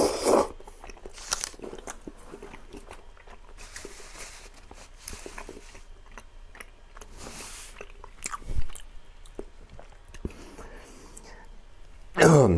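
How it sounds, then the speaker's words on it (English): Someone bites and chews spicy rice cakes up close, with soft crunching and wet mastication sounds, scattered clicks and occasional breathy noises throughout. "Let me try one of these little spicy rice cakes here."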